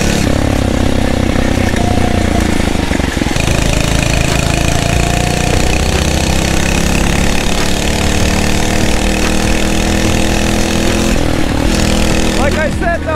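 A Phatmoto Rover 79cc motorized bicycle engine drones loudly and continuously while the bike is ridden off road on dirt. The revs rise and fall, and wind noise runs through the ride.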